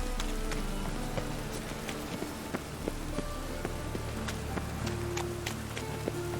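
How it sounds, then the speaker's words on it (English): Steady rain in a video game, The Witcher 3, patters on a surface, a dense hiss with scattered drops and occasional sharper taps, continuous throughout. "Rain again."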